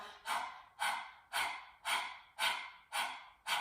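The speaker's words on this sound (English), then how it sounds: "So you're forcing the air out and using sort of this navel diaphragmatic area in order to help push the air out." Rhythmic forceful panting during a breathing meditation, with sharp exhales pushed from the diaphragm, about seven evenly spaced breaths, close and fairly quiet.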